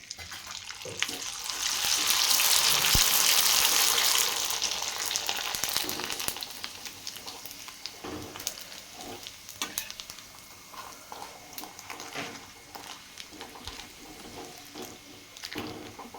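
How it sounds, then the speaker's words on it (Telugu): Rice flour vadiyalu puff up in very hot oil with a loud bubbling sizzle that swells early and then settles into a softer crackle with scattered clinks, and no voices. "ఎంత బాగా వేడవుతే అంత బాగా ఫ్రై అయిద్దండి"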